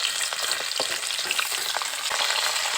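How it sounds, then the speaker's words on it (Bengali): Fish sizzle and crackle in hot oil in a pan, a steady frying hiss with sharp pops and occasional stirring clatter, close and without talk. "মাছগুলোকে একটু ভালো করে লাল লাল করে ভেজে নেব।"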